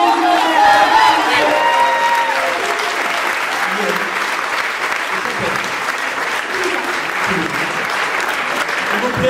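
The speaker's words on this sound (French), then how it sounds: "Et on applaudit." An audience at a Paris versus Toulouse improvisation match applauds loudly and continuously, dense clapping with a few cheers mixed in throughout.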